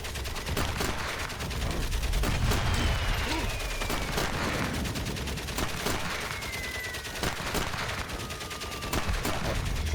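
Rifle and machine-gun fire crackles in Soldats Inconnus: Mémoires de la Grande Guerre, with sharp shots in irregular bursts over a steady battlefield din and occasional whistling projectiles passing.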